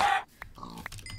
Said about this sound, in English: this is a lot of pigs and chickens